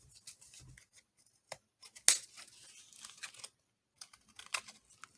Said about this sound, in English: I think maybe trim this one up a little more.